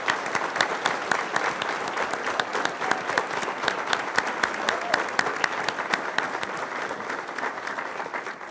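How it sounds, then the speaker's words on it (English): A modest crowd at a school board meeting gives a round of applause for students, with many distinct handclaps in an even, continuous patter, heard from some distance. "Let's give all these students a round of applause."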